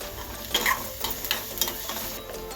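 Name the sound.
onion and green chillies frying in pan on medium gas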